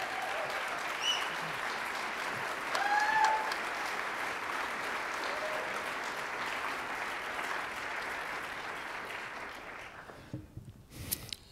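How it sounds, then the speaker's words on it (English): A live storytelling audience breaks into warm, continuous applause to welcome a neuroscientist to the stage, a steady wash of clapping with brief whoops near the start that fades out in the last seconds. "Give him a round of applause."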